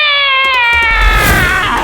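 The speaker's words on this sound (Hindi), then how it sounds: "ये वही मोटी बिल्ली होगी" A cartoon cat gives one loud, drawn-out meow that bends downward and fades into a rough whine, heard up close and alone.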